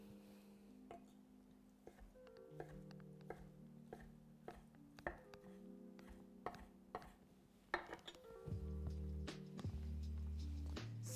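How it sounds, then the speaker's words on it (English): Knife chopping chicken into bite-sized pieces on a cutting board, a string of crisp, irregular taps close by, accompanied by a low tonal hum and some clattering toward the end. "just chop it to bite-sized pieces"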